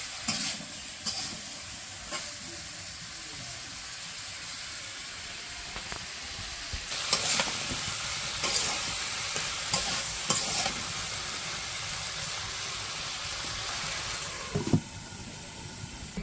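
Vegetables sauté in a pan in a village kitchen, giving a soft continuous sizzle with intermittent scraping and clattering as they are stirred, nearby and moderately quiet.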